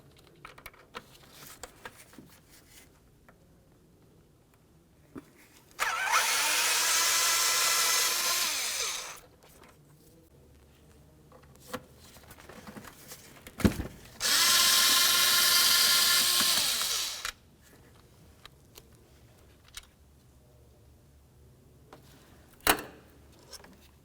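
Two 8mm bolts being removed from the cable bracket on a 2002-2005 Ford Explorer during intake manifold replacement: two loud, steady whirring tool bursts of about three seconds each, separated by a quieter pause with small clinks.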